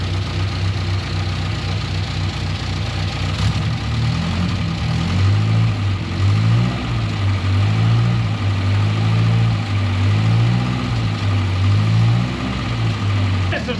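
An MG Midget roadster engine, revived after sitting 54 years and running on a new intake, idles loudly close by, a steady throbbing beat with uneven rises in revs.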